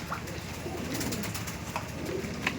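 Pigeons coo softly at a pigeon seller's loft, low throaty calls under a continuous busy background of rustling and ambient noise, with a few brief sharper sounds.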